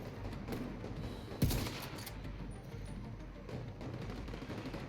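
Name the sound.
turret shooting at the player in video game The Division 2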